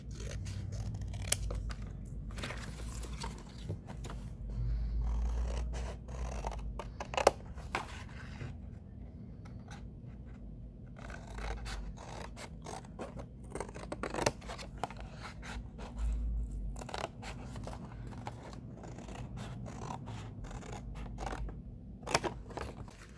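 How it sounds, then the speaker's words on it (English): Scissors cut through cardboard for a cake-slice sculpture base, with a series of close, crisp snips and crunching cuts in an irregular rhythm over a low steady hum, with occasional louder clicks. "If you find that it's hard to kind of turn the scissors, you can kind of just cut out over to cut it off"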